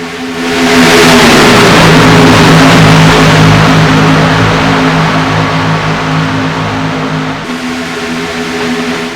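Loud, sustained roar of several NASCAR Xfinity race car engines in the iRacing simulation at Talladega, a dense pack droning close together at high speed, holding steady for the whole stretch with a brief dip near the end.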